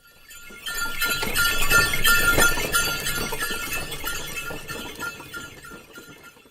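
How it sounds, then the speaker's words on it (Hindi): A bullock cart rolls along with a steady jingle of clinking bells and rattling wood, loud and continuous for several seconds before easing off slightly, with no talk. "Yes, bullock cart."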